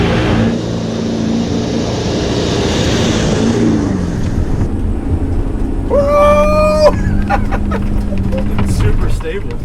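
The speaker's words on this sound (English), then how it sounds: "Because it's the only Hummer you can do donuts in." A 500 hp Mil-Spec Hummer H1 spins donuts off-road, its engine roaring and revving continuously up close as tires scrub, with a whining tone in the middle; people talk over it.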